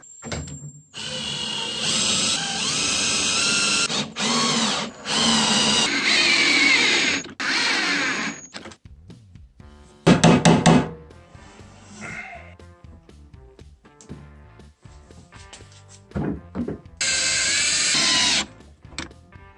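Power drill driving screws to fix casters onto a homemade workbench built from salvaged materials, whirring in several close, loud bursts of a few seconds each with brief pauses between, the motor winding up and down.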